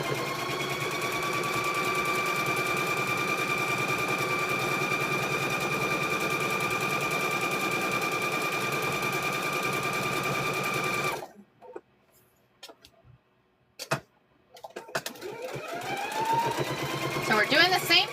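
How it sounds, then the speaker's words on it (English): A sewing machine stitching around quilt squares runs steadily at a fast, even hum for about eleven seconds, then stops; afterwards come a few clicks and handling noises before it starts up again faintly, with speech in the room. "let's sew around there. Da-doom, da-doom, da-doom. Just keep stitching."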